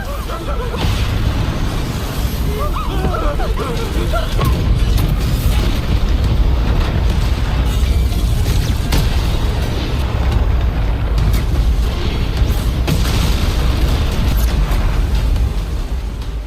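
A loud, sustained rumbling blast with deep booming low end and crackling debris, continuous and roaring throughout, like a huge cinematic explosion, from the animated series Swallowed Star.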